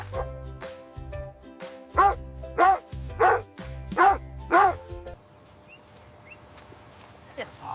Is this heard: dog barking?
yes